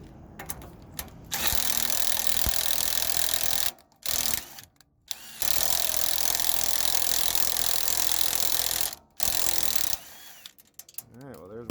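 Power tool tapping screw holes into a cast aluminum generator housing, loud sustained whirring runs broken by short pauses and ratcheting clicks, close, with brief talking between runs.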